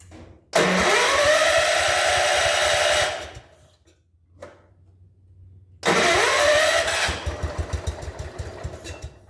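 A John Deere engine with a dirty carburetor, started on choke: it roars up loudly for a few seconds and dies, then fires again and keeps running with an uneven, pulsing idle.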